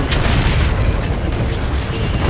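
A loud, sustained explosion roars through a Call of Duty: Infinite Warfare space dogfight, a dense, rumbling boom that fills the whole moment with no voices over it.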